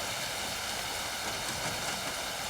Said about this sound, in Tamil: என்ன ஒரு மழை!